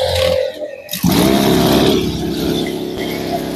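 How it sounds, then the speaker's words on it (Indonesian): A small plant sprayer engine catches after a brief pull, then settles into a steady, loud, even idle that runs close by. "Ini untuk mesin suaranya halus untuk jenis tipe ini."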